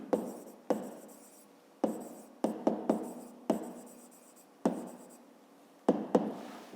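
Pen strokes scratch across paper in a series of short, close bursts, each starting sharply and fading, as someone writes out a fifth-grade math exercise by hand.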